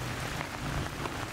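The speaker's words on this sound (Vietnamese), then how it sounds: "giờ mưa to này" Heavy rain pours steadily at night over a fishing spot, a dense, even hiss of drops on surfaces filling the whole stretch with no pauses and no voices.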